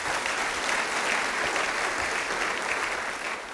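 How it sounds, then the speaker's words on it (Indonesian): A church congregation applauds together in dense, even clapping that fills the room and keeps a steady level before easing slightly near the end, with no voices heard. "Beri tepuk tangan bagi dia."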